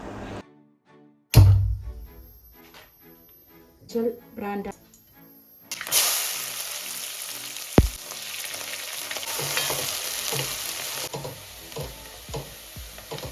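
Onions sizzle in a hot pan with a steady hiss, broken by clunks and stirring knocks; scattered tones and thuds come before the frying.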